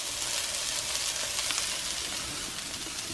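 Pork chops fry in a pan over a low flame, giving a steady, close, broadband sizzle with no voices over it.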